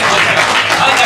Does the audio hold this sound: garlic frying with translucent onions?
no